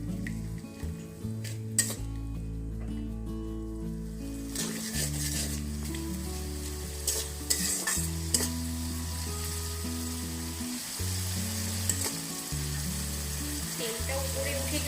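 Dried chela fish cooking down with taro stolons and jackfruit seeds in oil, a steady sizzle and fry with occasional clinks of a spoon against the pan, under low droning background hum.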